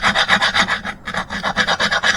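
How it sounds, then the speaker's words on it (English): A tile rasp scrapes back and forth across the back of a hardened concrete sculpture in steady, rhythmic rasping strokes, close and fairly loud, with a brief pause midway; no one speaks. "take tile rasps and sandpaper and just start smoothing off the back"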